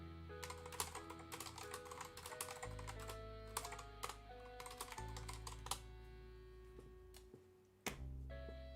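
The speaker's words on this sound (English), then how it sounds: "Clankety keyboard." A clanky computer keyboard clatters as someone types in quick, irregular bursts of sharp clicks, close and fairly quiet, with a low steady hum underneath and no talking.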